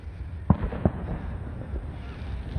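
Victoria Day fireworks over Toronto, with two sharp booming bursts standing out near the start and softer crackling pops continuing over a steady crowd-like rumble at moderate distance.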